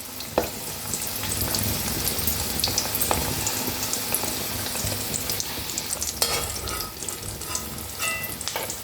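Eggs fry in oil in a pan with a continuous bubbling sizzle. Sharp pops and spatters break through now and then, and there are a few clinks as the eggs are stirred or turned.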